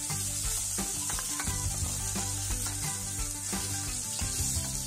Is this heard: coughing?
no